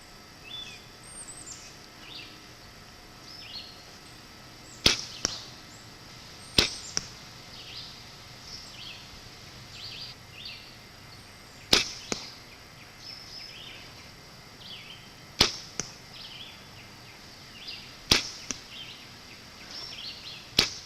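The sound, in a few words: arrows with Slick Trick broadheads shot and hitting target at 30 yards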